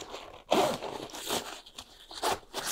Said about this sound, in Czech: zipy po celé délce připevnit.